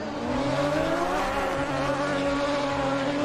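A race car engine in the Assetto Corsa video game drones loudly at high revs, a sustained buzzing tone holding steady with slight pitch shifts throughout.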